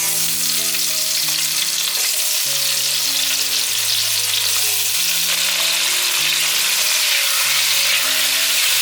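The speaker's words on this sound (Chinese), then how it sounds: "把马铃薯放进来煎" Steady oily sizzling of potatoes pan-frying in hot oil runs throughout, with a gentle melody of background music playing underneath.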